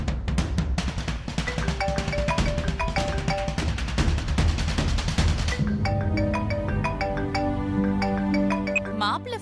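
A phone ringtone plays at length, a repeating electronic melody mixed with dramatic background music, with a brief pause and a change of tune partway through; people speak in the scene of a Tamil TV serial.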